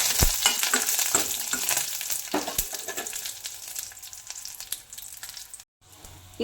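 Curry leaves and dried chillies frying in hot oil after mustard seeds, a busy crackling sizzle with sharp pops and stirring clatter, close and loud, dropping out briefly near the end.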